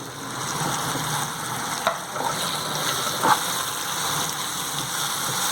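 Ivy gourd chutney is mixed with oil, giving a steady wet, sizzling hiss with a couple of soft clinks from the utensil, close and even throughout.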